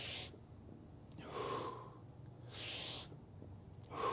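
During a single-arm dumbbell row with a reach, a person breathes in as they row up and exhales on the way down. The breaths are faint, airy and close, rising and falling in a slow rhythm.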